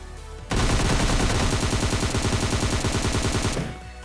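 Sustained burst of AKM rifle gunfire in PUBG Mobile Lite, loud rapid automatic shots running for about three seconds alone before cutting off.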